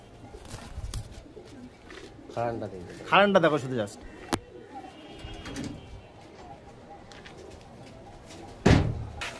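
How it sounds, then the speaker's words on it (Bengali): Malbai pigeons cooing in a loft, soft repeated coos near the mic amid handling noise and a sharp knock, with someone speaking over them. "এই দুটো মালবাই পায়রা।"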